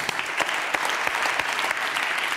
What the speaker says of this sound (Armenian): Ծափարություններ։